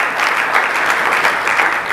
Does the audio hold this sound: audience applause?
yes